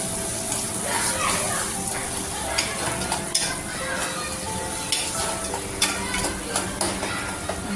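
A spiced mixture is stirred and mixed in a frying pan over a steady sizzle, with repeated scraping and tapping from the spoon close by and a voice speaking softly underneath.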